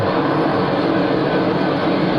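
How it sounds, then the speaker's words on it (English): A jumbo jet passes overhead, its loud, steady broadband roar filling the whole stretch with no change in level and no voices. "Jumbo jet flies over the top."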